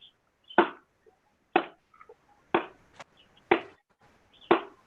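Five evenly spaced dull thuds of pounding inside a hut, about one per second, fairly faint against a quiet background.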